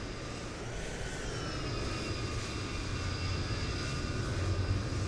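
An Airbus A320 jet engine in a flight simulator spools up with a steady broadband roar and a thin rising whine, building gradually and continuously without any speech.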